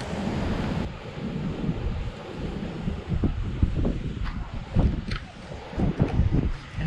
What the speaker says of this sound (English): That's really rough water.